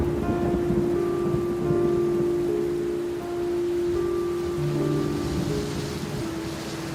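Heavy rain pours in a steady, dense hiss that fills the scene without a break, with a low sustained tone running under it and no talk.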